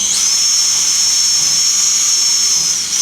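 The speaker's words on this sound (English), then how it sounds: "Drill went through." A power drill bores through RV windskirt skirting material, a loud steady high-pitched whine held for about three seconds, then winding down.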